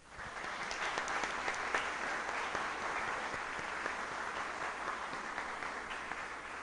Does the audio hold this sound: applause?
yes